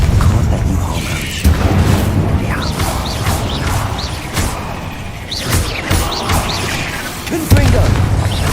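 Repeated Confringo fire-spell blasts in the Hogwarts Legacy video game, loud booming and crashing impacts landing in irregular bursts over dense combat noise, with some voices under the fighting.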